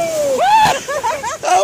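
Water splashes and sloshes over riders on the Dollywood Smoky Mountain River Rampage raft ride, with bursts of spray close by under excited voices and shrieks.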